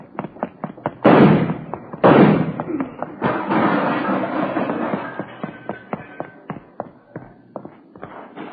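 Gunshot in an old-time radio police drama, heard as two loud sharp bangs close together near the start, followed by a denser stretch of knocks and thuds and scattered lighter taps, with no speech over it.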